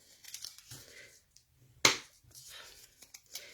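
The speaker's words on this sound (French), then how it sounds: "on marque bien nos plis pour avoir quelque chose de bien net" Paper folds of a craft box being creased, with soft rustles and crinkles and one sharp, crisp crease near the middle; quiet and close, with no talking.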